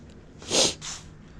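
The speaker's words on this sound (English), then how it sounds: "Just mowed my yard, so now I'm all sniffling." A single sharp nasal burst, like a sniff or sneeze, close and loud, followed by a softer second snort.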